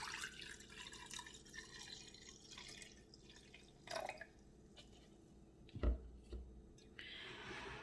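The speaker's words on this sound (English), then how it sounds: "Pouring the water." Warm water, a mix of hot and tap water, pours into a container for salting eggs, a soft steady trickle with a few drips and small clunks, heard close and alone.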